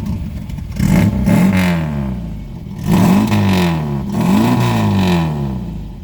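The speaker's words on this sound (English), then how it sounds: "I know that exhaust note is bringing back memories for some of you guys and gals out there that had one of these back in the day" A 1980 MGB Convertible with a 1.8-liter inline four revs up three times from a burbling idle, each rev climbing and falling back, its exhaust note close and fairly loud.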